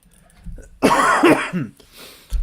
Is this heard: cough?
yes